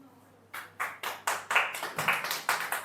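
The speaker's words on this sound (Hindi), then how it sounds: "इसमें ताली बजाने क्या बात है?" During a classroom lecture, a small group claps in a slow, steady rhythm of about a dozen distinct claps after a brief quiet start, sounding moderately close but fairly faint.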